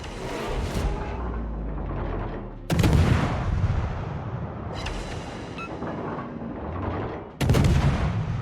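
Heavy naval guns from a Kiev destroyer in World of Warships boom in deep, loud salvos, with two big blasts and a lighter report between them over a steady low rumble.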